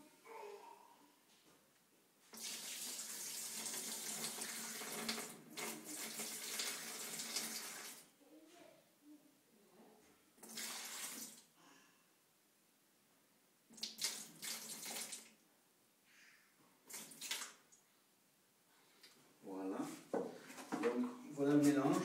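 Water runs from a tap in several bursts of a few seconds each, close and fairly loud, while mixing water for a concrete hardener blend for a polished waxed concrete finish.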